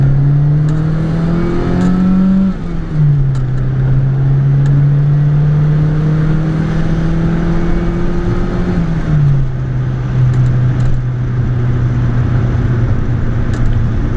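Saab 900 Turbo engine revving out toward 5,500 rpm while driving, loud close drone climbing in pitch through the gears with shifts and renewed pulls, turbo whir under the engine note.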